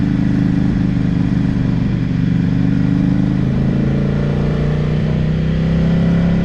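A 2015 Ducati Scrambler Icon with a full aftermarket exhaust idles in a steady, deep, throbbing low rumble that stays close and loud throughout.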